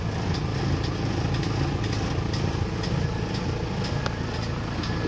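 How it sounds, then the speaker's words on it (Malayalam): A Mahindra four-wheel-drive jeep rolls downhill on engine braking with no brakes applied, giving a steady loud engine drone with a constant rumble and faint rattles throughout. "ഈ ഇറക്കത്തിൽ നമുക്ക് ബ്രേക്ക് ഇല്ലാതെ വണ്ടി എൻജിൻ ബ്രേക്കിങ്ങിലാണ് പോകുന്നത്"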